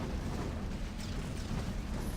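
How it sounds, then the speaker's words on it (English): Gunfire in a Panzar tournament match, a dense, continuous low rumble of shots and blasts filling the whole moment without clear separate reports. "Gunfire coming in from the side by Torpedoes."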